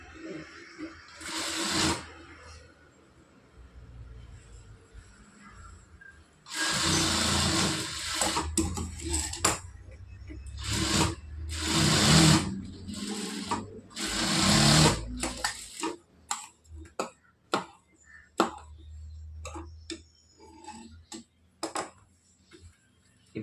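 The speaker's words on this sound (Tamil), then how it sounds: "எப்போவுமே தையல் வந்து ஆரம்பிக்கிற இடத்துலையும் முடிக்கிற இடத்துலையும் இந்த மாதிரி சிக்ஸாக் வந்து பண்ணிக்கோங்க" A sewing machine stitches a zigzag seam on a blouse in several bursts of loud, rapid whirring, separated by pauses and followed by shorter quick runs and light clicks.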